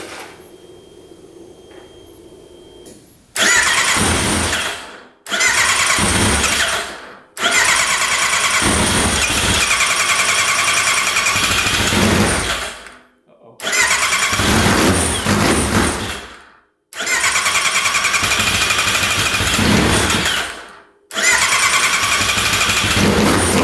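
An overheated snowmobile engine cranks and fires repeatedly, each loud start running several seconds before cutting out with abrupt gaps, four or five restarts in a row, close up with no talking.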